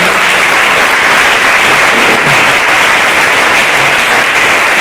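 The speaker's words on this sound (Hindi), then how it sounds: "एक बार पुनः डॉक्टर्स के लिए जोरदार ताली होनी चाहिए" Loud, continuous applause from a hall audience for doctors at a school dental health session, a thick even roar of many hands clapping close by with no voices heard.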